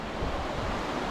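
A river flows in a steady, broad rush of water, a dense outdoor roar with some wind noise mixed in and no voices.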